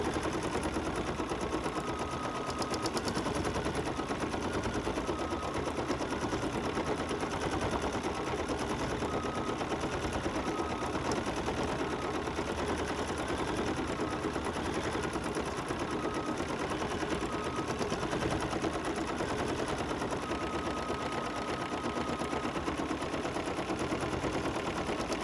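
An embroidery machine stitches an edge-to-edge quilting design, a steady fast mechanical whirring and needle chatter running continuously at an even level throughout, with no talk.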